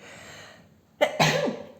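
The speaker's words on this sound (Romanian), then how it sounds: "mulțumesc, am strănutat" A person sneezes close by in two quick, loud bursts, a sharp intake followed by the forceful expulsion, after a quiet stretch of faint breathing.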